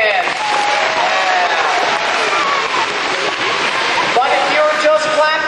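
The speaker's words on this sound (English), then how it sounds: "Give yourselves a big hand." A crowd of elementary and middle school students claps during a science-themed school assembly, a loud, dense burst of applause mixed with excited chatter and voices throughout.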